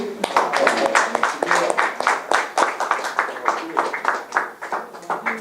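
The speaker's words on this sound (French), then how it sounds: "Applaudissez." An audience at a church seminar in Avignon claps in sustained, fairly close applause, with dense, uneven hand-claps running throughout at moderate volume.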